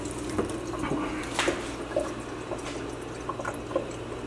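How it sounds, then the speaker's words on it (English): A tap runs inside an empty house, giving a steady hiss of flowing water with scattered drips and splashes, moderately close and continuous with no one speaking. "water's on in here too?"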